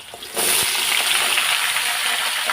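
Potatoes for a home-style potato curry tumble into a hot pan, bursting into loud, continuous hissing and sizzling after a quieter opening, with no talking.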